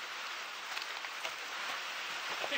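Rain falls steadily outdoors at a gold-panning site, a continuous hiss of drops with faint patter, moderately quiet and even throughout, with no one talking.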